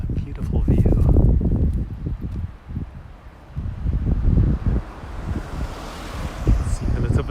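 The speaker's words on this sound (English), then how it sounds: "I think it's changing because the wind is blowing" Outdoor wind in Japan buffeting the microphone in heavy low gusts that rise and fall, loud and close, easing briefly midway before surging again, with a person speaking at times.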